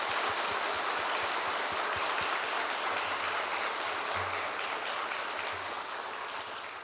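A church congregation at a New Year's Eve service claps together in a sustained, dense round of applause that stays strong throughout and eases slightly toward the end.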